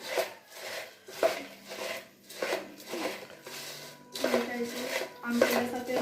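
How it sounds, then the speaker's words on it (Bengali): Puffed rice (muri) being mixed by hand with chopped chop and mustard oil in a bowl, producing repeated dry rustling, rasping scrapes in a steady rhythm, close up, with a voice talking over it. "আমাদের সুন্দরী মুড়ি মাখছে।"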